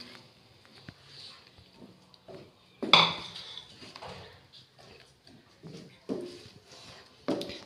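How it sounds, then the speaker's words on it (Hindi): Spoon knocking against a cooking pot as coarse tomato paste goes into the pan for tomato chutney: a few sharp clinks and scrapes, spaced apart, close and fairly quiet over a still kitchen. "इस पेस्ट को हम इसके अंदर डाल देंगे।"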